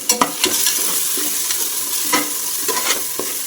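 A spiced mixture with chilli powder for kothambari bath fries in a pan while being stirred, with a steady close sizzle broken by repeated scraping and tapping strokes of a spatula at an uneven rhythm.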